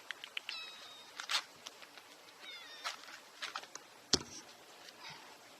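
A cat meows faintly several times on a quiet Key West back street, short scattered cries at some distance amid soft outdoor ambience and occasional small knocks.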